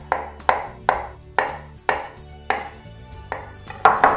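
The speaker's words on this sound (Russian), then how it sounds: "Нарежем его небольшими кусочками," Knife chopping an avocado into small pieces steadily on a cutting board, about ten crisp, evenly spaced thuds, close and clear with no talking.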